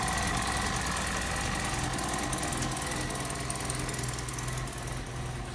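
A Morris 1100 engine, freshly fitted with a new water pump, runs steadily at idle with a dense, even rattle and knock, continuous and fairly close throughout without talk.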